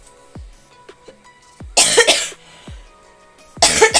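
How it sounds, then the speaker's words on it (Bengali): A person coughs repeatedly and close by, with several short single coughs followed by two longer, harsh bursts of coughing, suggesting a persistent illness. "প্রচুর কাশি"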